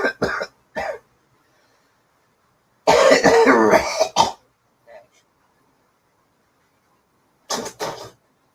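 Harsh, barking coughs in several bursts, one long fit of coughing and throat clearing in the middle and short coughs at the start and end, with silence between.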